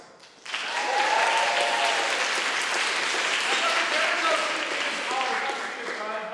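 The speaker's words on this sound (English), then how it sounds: "Can we get a round of applause for Dr. Karen Nelson?" Theatre audience applauding for Dr. Karen Nelson at a revue in the Ulrich Theater in Taos, a dense, loud burst that starts suddenly and holds steady for several seconds, with a few voices and cheers mixed into the clapping.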